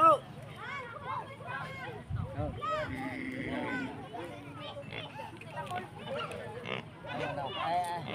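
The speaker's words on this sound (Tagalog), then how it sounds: "yung baboy natin, no? Medyo gutom na, oh." A hungry pig grunts and oinks in repeated short squeals and snorts, close and busy, while someone talks over the animal noise.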